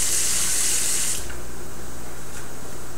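Water runs from a kitchen sink tap to rinse a pan, a steady close hiss and splash that is loud at first, then drops to a softer flow.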